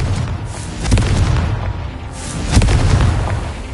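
A Confringo blast spell in Hogwarts Legacy, two deep booming explosions about a second and a half apart, near and loud over a low rumbling game backdrop.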